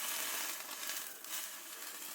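Steak sizzles on a small firebox stove inside a hot tent, a faint, continuous high hiss and crackle with no voices over it.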